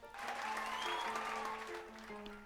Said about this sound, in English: they even put in an applaud sound effect